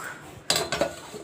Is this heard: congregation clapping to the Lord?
no